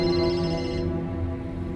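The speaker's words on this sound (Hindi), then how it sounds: "अच्छा, दोबारा कॉल आ रही है" A mobile phone ringtone plays for an incoming call indoors, a steady melodic tone with sustained harmonics, fairly loud and continuous, its upper notes dropping away partway through while the ringing carries on.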